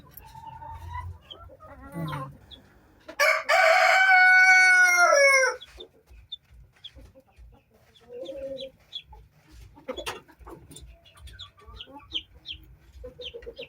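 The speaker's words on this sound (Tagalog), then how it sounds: "Ayan yung rooster natin dito." A breeder rooster gives a long, loud, close crow. Scattered clucks and soft farmyard noises come before and after it, with no talk.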